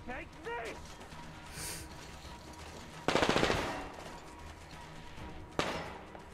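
Video game gunfire in Metro Exodus crackles in short bursts, with louder rapid volleys near the middle and end, mixed with shouting voices and game noise.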